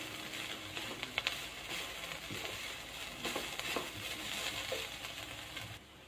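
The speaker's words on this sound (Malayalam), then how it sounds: "ഇതുപോലെ ഇളക്കി കൊടുക്കുക ഇപ്പോൾ മുട്ട നന്നായിട്ട് ഫ്രൈ ആയിട്ടുണ്ട്" Egg and red cabbage frying and being stirred in a pan, a continuous sizzle with scraping and clinking stir strokes, moderately loud and close, ending abruptly.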